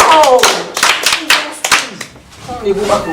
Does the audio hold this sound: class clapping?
yes